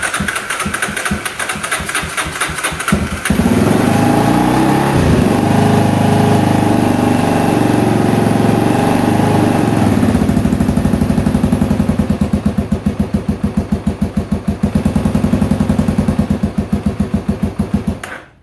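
A Honda XL250R motorcycle with a new carburetor and exhaust manifold, cranking for a few seconds, then catching and revving before settling into a steady, fast-pulsing single-cylinder idle, loud and close.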